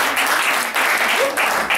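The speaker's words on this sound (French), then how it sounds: "on va leur l'applaudir encore une fois" Close, loud audience applause at a French literary aphorism event, dense continuous clapping with slight surges throughout.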